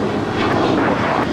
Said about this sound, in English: this is an Embraer Legacy 500. Circle departure, go